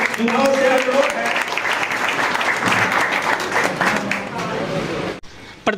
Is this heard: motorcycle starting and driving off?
no